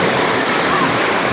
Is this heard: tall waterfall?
yes